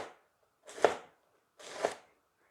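Two crisp chops of a knife through cabbage onto a board, evenly spaced, close and fairly quiet, with silence between them.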